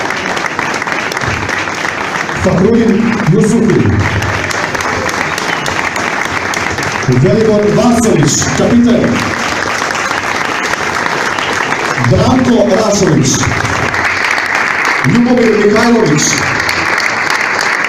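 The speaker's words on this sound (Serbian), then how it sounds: "Molim vas da velikim aplauzom pozdravimo tu generaciju" A stadium-style audience applauds steadily to honour the Partizan generation of the European Cup final against Real Madrid at Heysel, Brussels, with continuous clapping under an announcer reading out player names.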